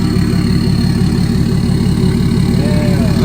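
A BMW X5 diesel with its emissions equipment deleted idles nearby, a steady loud low-pitched rumble with an even, unchanging pulse throughout.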